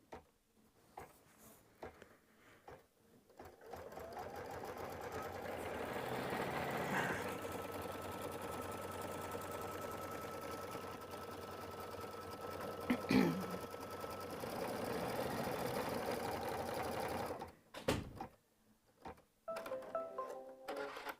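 An embroidery machine stitches part of a design with a soft, steady, rapid ticking hum that runs for roughly fourteen seconds, quiet and moderately close, then stops, leaving faint room noise and small handling sounds.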